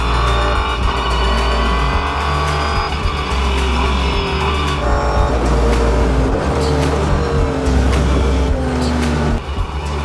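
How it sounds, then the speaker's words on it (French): A Renault Sport Trophy race car brakes and drops several gears into Stowe corner, its engine note stepping up and down loudly and continuously with tyre noise, up close. "On descend quelques rapports pour aborder le virage de Stowe."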